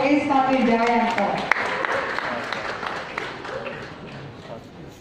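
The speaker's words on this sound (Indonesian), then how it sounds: "Berikan tepuk tangan yang meriah untuk Ustadz Wijayanto" Audience at an Indonesian office halal bihalal gathering applauds warmly, a dense, loud burst of clapping that tapers off over several seconds with voices mixed in.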